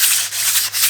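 Cylinder bores of an engine block are honed to a cross hatch in a kitchen rebuild, a steady abrasive rubbing and scraping with slight dips in rhythm over one second, close and fairly loud with no talk.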